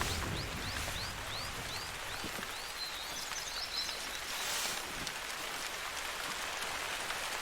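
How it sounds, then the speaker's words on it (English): Steady rain falls in the hunting video game Call of the Wild at a Hirschfelden reserve, a constant dense hiss with a few faint bird calls near the start and no voices. "It's already raining."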